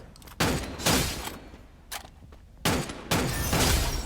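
Loud shotgun blasts from the Free Fire battle royale game, several heavy booming shots in separated bursts with sharp onsets and long noisy decays, no talk over them.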